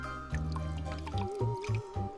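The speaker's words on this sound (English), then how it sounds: "the first step is to add about a cup of water" About a cup of water pours into a kitchen blender, a quiet, close trickle and gurgle with a brief sustained fill followed by several short splashy bursts.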